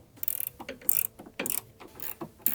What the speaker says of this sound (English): Now we'll be able to get the nut removed here